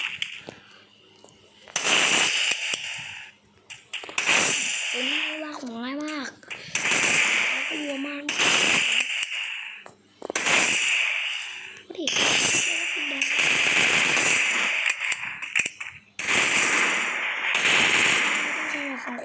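Gunfire in a headshot-focused video shooting game: rapid bursts of automatic fire repeat in clusters across the clip, loud and close, with a young voice talking between and over the shots.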